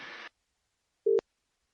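A telephone line tone sounds on a call to an airport weather information service, a short burst of hissy line noise followed by a brief, steady, loud single-pitched beep.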